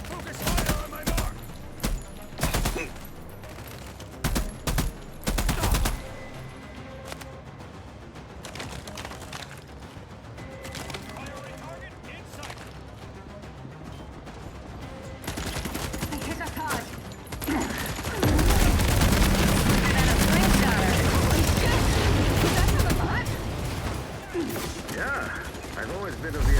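Salvos of gunfire ring out in The Expanse: Osiris Reborn, a sci-fi shooter game. Sharp bursts and rapid volleys come in clusters at first, then give way to a heavy, sustained barrage, with a voice talking in the quieter stretches.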